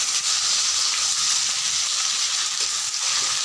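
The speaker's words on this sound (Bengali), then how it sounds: "এরপর আমি পেঁয়াজ কুচি দিয়ে দিচ্ছি।" Chopped onions frying in a pan with cumin, black pepper and cinnamon give off a loud, steady, close sizzle with a dense, even hiss throughout and no pauses.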